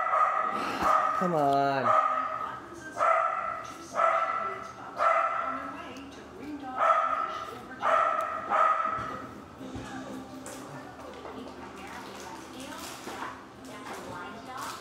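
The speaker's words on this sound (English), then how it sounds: "my dog's barking" A dog barks repeatedly in a steady string of about eight sharp barks, close and loud, with a brief yelp early on; a person speaks briefly between the barks.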